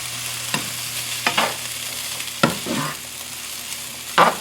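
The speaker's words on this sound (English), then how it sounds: "Get those stirred around with the rest of it." Sweet potatoes stirred in a pot for slow cooker tacos, several loud scraping knocks of a spoon against the pot spaced irregularly over a low steady hum, with no voices.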